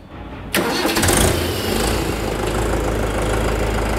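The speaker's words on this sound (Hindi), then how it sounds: "ये ट्रैक्टर की आवाज़ है दोस्तों," A 2024 Mahindra 585 50 hp tractor diesel engine cranks and catches suddenly after a quiet moment, then revs briefly and settles into a loud, close, steady knocking idle.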